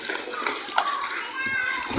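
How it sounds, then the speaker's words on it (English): Water splashes as it is poured onto a floor being levelled, partly masked by constant talking and children's voices. "You can see just pouring the water there so that the floor can be strong."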